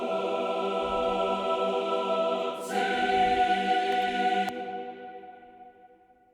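Sustained tonal music for a Cobra Kai Season 3 score cue is processed with Altiverb's Uranienborg church reverb from Oslo, set to a very long 8.9-second decay. Layered held tones end and fade away slowly in a smooth tail.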